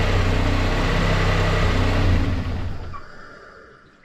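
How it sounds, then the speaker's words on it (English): A turbocharged car engine runs loudly, then shuts off, and the engine roar drops away while a fading whir of the upgraded turbo's turbine winds down to near silence. "I want to go ahead and shut it off and see how long it takes for the turbine to stop spinning"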